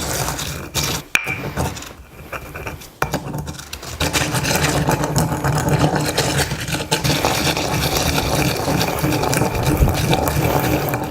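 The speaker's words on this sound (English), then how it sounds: "You want to break it up until it's all dust." Rice and water are ground in a stone molcajete, a steady wet scraping and swishing of stone on stone that runs continuously and close, with a few sharper knocks near the start.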